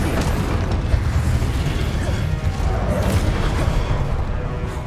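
The Incendio fire spell in Hogwarts Legacy roars as a loud, dense, continuous burst of rumbling flame and blasts, heavy in the low end and sustained for several seconds of combat.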